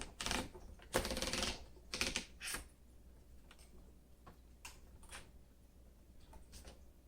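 A 1957 Remington Rand vintage typewriter clacks through a quick cluster of sharp keystrokes up close, then trails off into a few fainter, scattered ticks.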